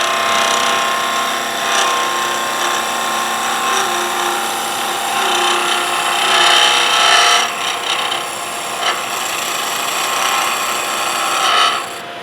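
Wood lathe turning a practice piece, a gouge cutting the spinning wood with a steady, loud shaving and rasping hiss that swells and dips as the cut gets heavier toward the tapered end.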